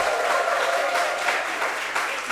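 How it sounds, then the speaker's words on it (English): An audience at a disaster risk reduction panel and exhibition gives a round of applause for the sponsor, a dense, even patter of many hands clapping throughout at moderate loudness. "Kind of round of applause for our main sponsor, UNESCO. So now please clap, clap, clap."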